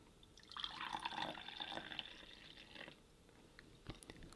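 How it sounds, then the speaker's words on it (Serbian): Coffee pours into a cup as a faint, close trickle lasting a couple of seconds, then fades into a few soft drips in a quiet room. "Tamo da sipam kafu dok se učitava."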